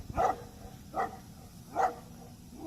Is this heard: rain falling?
no